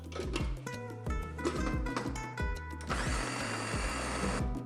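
A blender whirring through almond butter, almond extract, maple syrup and melted vegan butter, its motor pulsing in short repeated bursts before settling into a continuous, close drone.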